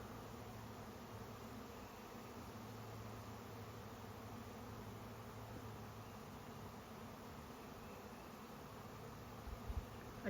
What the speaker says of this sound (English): That's a big swarm.